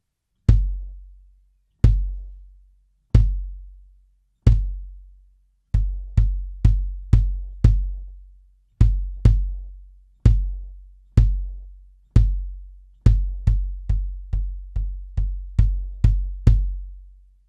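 Kick drum fitted with a Sonitus Kicker muffling device, sub kick off, the beater bouncing off the head: a run of single deep thuds with short tails that speeds into quicker clusters, close and dry with nothing else heard.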